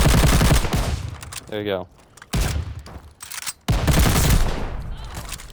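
Sustained automatic fire from a bipod-mounted gun in Call of Duty Vanguard comes in loud, dense bursts broken by short gaps, and someone briefly speaks during one of the pauses.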